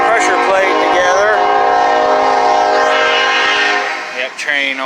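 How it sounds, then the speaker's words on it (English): A train horn blares loud and sustained close by as the train passes, holding steady for several seconds before fading slightly at the end, with no one speaking. "Yep, train always coming by."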